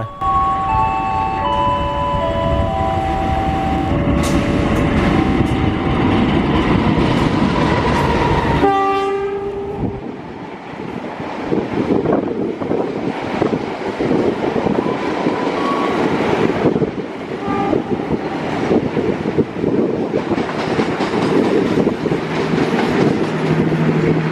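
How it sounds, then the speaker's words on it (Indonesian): Jayakarta 252 passenger train passes on track 1 at Klari station, opening with a loud multi-tone horn blast, then a sustained rumble and rhythmic clatter of wheels over rail joints as the carriages roll by close. "Lalu jalur 1 melintas kereta api Jayakarta 252"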